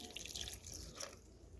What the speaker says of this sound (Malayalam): ഒരു കാൽ ഗ്ലാസ് വെള്ളം ഞാൻ ചേർത്തിട്ടുണ്ട്